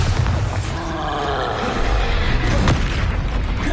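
A Bombarda blasting spell goes off in Hogwarts Legacy with a loud, dense, rumbling boom that holds steady for several seconds, with a sharper crack near the end.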